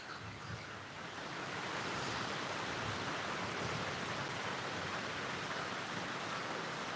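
Water pours over the Lake Lemon spillway near Nashville, Indiana, a dense, steady broadband rush that swells slightly after the first second and then holds loud and constant, with no voices.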